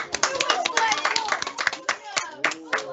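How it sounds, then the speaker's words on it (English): Several people clap in quick, uneven bursts at a school assembly, close by, with a voice or two audible among the claps. "Can we give triangles a big round of applause?"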